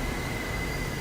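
A New York subway train rides on the Q line with a steady, dense rumble of wheels on track and a faint high whine, heard close from inside the car.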